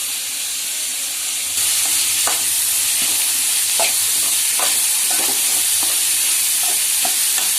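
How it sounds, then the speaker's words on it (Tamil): Vegetables with curry leaves and coriander fry in oil in a pan, giving a constant loud sizzle with irregular clinks and scrapes of a spoon stirring, close by and with no speech. "நல்லா கலந்துக்கலாம். இந்த கருவேப்பிலை சேர்த்துக்கலாம். இந்த கொத்தமல்லியும் சேர்த்துக்கலாம்."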